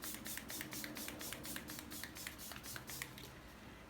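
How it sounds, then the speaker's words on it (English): Makeup setting spray misted onto a face comes as a quick series of soft, faint hissing bursts in steady rhythm, with no talking. "I'm gonna use my setting spray"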